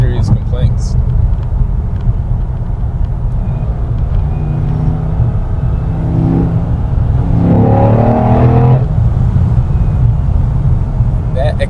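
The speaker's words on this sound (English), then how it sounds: "That acceleration like really puts you back in your seat." C8 Corvette accelerating on a night drive, a loud steady engine rumble and whir from inside the cabin that swells in pitch with rising revs midway, with no other sounds.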